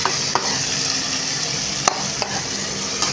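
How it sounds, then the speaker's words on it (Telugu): Tomatoes fry in a pan with a loud, steady sizzle and a few light scrapes of a spatula as they are stirred. "ఇవి టమోటా అనేది వేగేసాయి కొంచెము."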